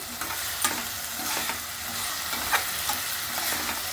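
A green masala of coriander and mint sizzles in a hot pan for vegetable biryani as a spoon stirs it, with steady close frying hiss and occasional scraping strokes.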